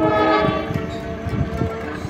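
Train rolling along an elevated railway line near a bridge, a loud, continuous rumble with rhythmic clatter of wheels over the track and a steady droning tone, close by and alone.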